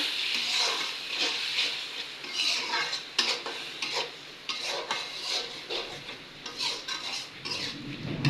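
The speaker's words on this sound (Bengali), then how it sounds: "ভালো করে কষিয়ে নেব মশলাটা" Spice paste cooked down with salt and water sizzling in a pan while being stirred, with repeated scraping strokes and utensil clinks over a soft hiss.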